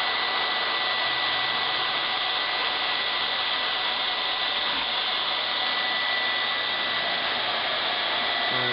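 Hot air plastic welder blowing a steady, even hiss of air through its nozzle, constant and close with no change in pitch or level throughout.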